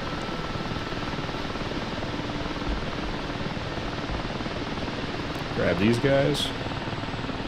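Steady helicopter rotor and turbine noise during a hover taxi in DCS, a constant broadband whir throughout, with a voice briefly speaking over it near the end.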